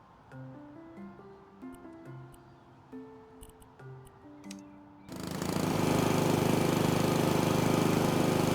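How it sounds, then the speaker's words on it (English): Lawnmower engine running in a house renovation game, a loud sustained roar that starts partway through after quieter melodic tones and stays steady to the end. "I don't know why the lawnmower is so loud."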